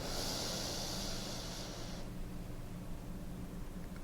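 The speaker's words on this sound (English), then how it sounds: "Again, breathe in through your nose." A person draws a long, steady breath in through the nose during a guided breathing exercise. The airy hiss lasts about two seconds and then fades into quiet room tone.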